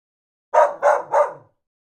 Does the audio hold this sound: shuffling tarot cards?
no